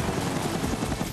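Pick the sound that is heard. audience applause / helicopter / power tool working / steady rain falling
helicopter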